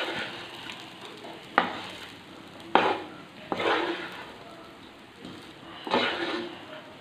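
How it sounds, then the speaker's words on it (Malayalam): Vegetable pulao being stirred with ghee in a pan makes a soft sizzle under intermittent scraping stir strokes, several louder sweeps of the spoon standing out. "ഇനി നന്നായിട്ട് ഇതൊന്ന് ഇളക്കി യോജിപ്പിച്ച് കൊടുക്കണം."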